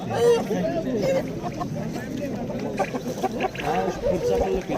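Roosters and other fowl at a busy bird market in Samarkand, clucking and crowing in short bursts under steady close-up voices of people bargaining.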